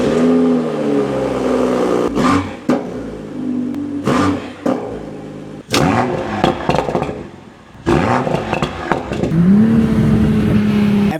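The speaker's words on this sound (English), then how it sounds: "I'm gonna get in and turn it on for you guys." A car engine starts and is revved repeatedly, loud and close, its pitch rising and falling in surges separated by brief dips.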